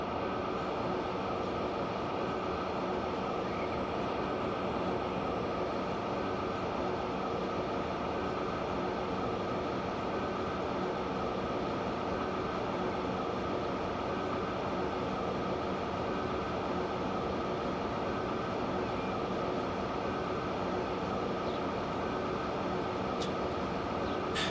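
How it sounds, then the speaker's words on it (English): An electric train in Transport Fever 2 runs with a steady, loud broadband rumble and hum, constant for the whole stretch with no talking. "And there goes our electric train."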